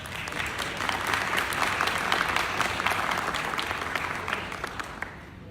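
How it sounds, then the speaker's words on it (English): Audience applause at a civic event honoring city leadership, a dense, steady wash of many hands clapping that holds for several seconds before thinning out at the end. "So please give a round of applause."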